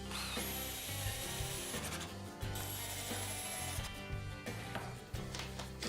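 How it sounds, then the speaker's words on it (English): Final screws are driven in to assemble a bed, heard as close, rapid ratcheting clicks of a driver in several bursts separated by brief pauses, with no voices. "With these last screws, I finish putting the beds together."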